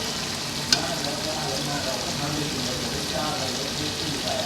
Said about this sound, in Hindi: अब इसकी अच्छी तरह भुनाई कर लेते हैं।